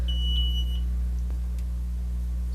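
Electronic tag detector scanning a fish nose for a wire tag, a thin high-pitched beep sounding twice in quick succession at the start, then fading out over a steady low hum.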